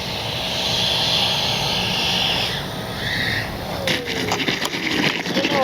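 An FMS Avanti S 90mm electric ducted-fan RC jet airplane howls loudly with a high turbine-like whine, holding steady and then shifting pitch as it passes by.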